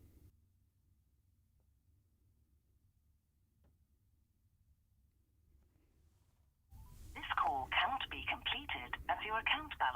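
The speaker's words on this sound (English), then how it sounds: "So what I got it to do there is make a phone call" A phone triggered by a script places an outgoing call, a quiet stretch giving way to a loud burst of rapid tones and beeps in the final seconds.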